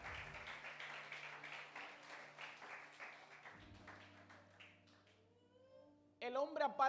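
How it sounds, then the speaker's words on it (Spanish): A church congregation breaks into loud applause in the final moments, following a stretch of preaching with voices. "le puede dar un aplauso al Señor"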